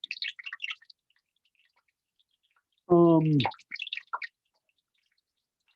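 Hot frying oil for churros and cheeseburger eggrolls crackles with small, sharp pops as water hits it, coming in scattered bursts before and after a brief voice.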